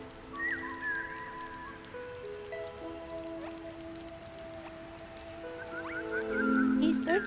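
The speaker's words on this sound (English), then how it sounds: "I think the rain is like so satisfying to listen to." Soft, steady rain patters through a forest in the video game Sky, a gentle continuous wash beneath sustained melodic tones and chimes, with no voices.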